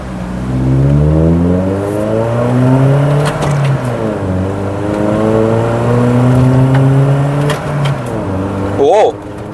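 Mercedes-Benz C200 W202 engine accelerating hard in first gear with rising then shifting harmonic revs, loud and close throughout, a brief sharp transient near the end.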